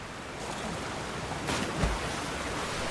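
Steady broadband rush of a waterfall in The Legend of Zelda: Tears of the Kingdom, a continuous even roar with a brief swell midway.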